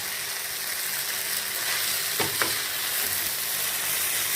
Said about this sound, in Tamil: அந்த மசாலையில் நல்லா வேகணும் பாஸ்தா. மிக்ஸ் பண்ணி பார்க்கலாம்.